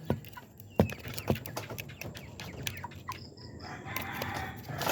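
Chickens cluck and call sporadically nearby, with scattered scratching and tapping noises between calls.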